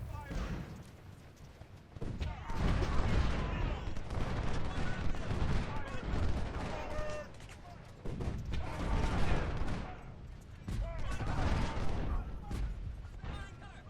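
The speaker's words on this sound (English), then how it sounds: "I am shooting at his artillery battery" Gunfire and artillery in the video game Ultimate General: Civil War, a steady background rattle of distant musket volleys and cannon booms under someone speaking.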